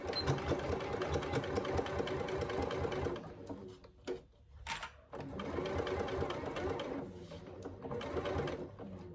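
A sewing machine stitches the side seams of a Scarlett Hobo bag in steady, close bursts that break off briefly midway before running on again, with no talk over it.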